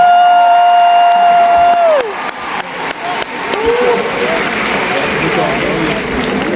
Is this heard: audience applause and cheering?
yes